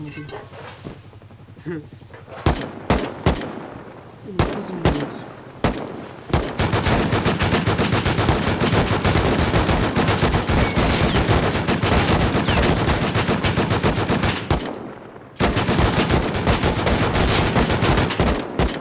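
Rust video game gunfire: scattered single shots give way to long, dense bursts of rapid automatic fire with a brief break, loud and close, while players talk over it.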